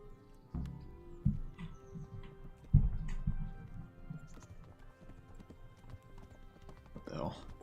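Hooves clip-clop in a steady, moderately loud rhythm as a horse is ridden in the video game Kingdom Come: Deliverance, with voices talking over the hoofbeats.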